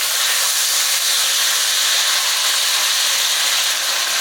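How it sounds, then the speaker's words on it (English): Onions and peppers sizzle in a pan alongside andouille sausage, a steady, dense hiss that stays loud and even throughout with no pauses or talking. "Throw our onions and peppers in there with it"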